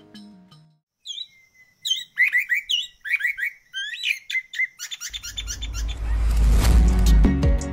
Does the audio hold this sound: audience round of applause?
no